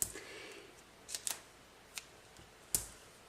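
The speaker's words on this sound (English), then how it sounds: "So I'm just going to cut some little pieces out" Scissors snip small pieces of 3D foam tape for a papercraft note, giving a few faint, sharp, close cutting clicks, a pair near the middle and a single louder one toward the end, with no talk.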